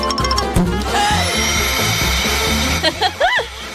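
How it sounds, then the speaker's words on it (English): A vacuum cleaner runs with a loud, sustained whining motor drone, joined near the end by brief rising and falling tonal sounds. "This vacuum will eat all the worms fast."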